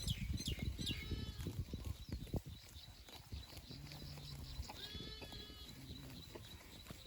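Goats and sheep on a farm, with shuffling hoof steps and rustling early on, then a few tonal bleats and calls over steady outdoor background noise, moderately close.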